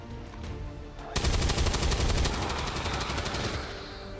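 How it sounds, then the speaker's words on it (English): Gunfire in the XCOM 2 video game as a soldier shoots an explosive canister: a sharp, loud burst erupts about a second in, followed by a dense rattling, crackling blast that sustains for several seconds before easing off. "having Marb take the shot at the canister here"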